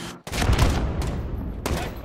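Airstrike explosions in Call of Duty Modern Warfare, heavy booming blasts rolling together into a continuous thunderous barrage with a couple of sharper impacts, loud and close, filling the whole moment.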